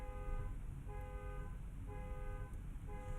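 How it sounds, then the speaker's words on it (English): A passing car honks its horn in a harmonic toot repeated four times at a steady rhythm, fairly loud over a low traffic rumble outdoors. "Please ignore the car and honking."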